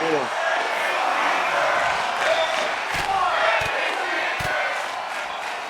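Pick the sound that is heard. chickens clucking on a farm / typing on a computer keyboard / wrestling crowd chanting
wrestling crowd chanting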